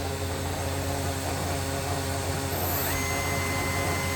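A 2010 Makino a61 CNC horizontal machining center runs its spindle at speed, a loud, steady broadband whine and hum that holds constant throughout with a faint rising tone near the end.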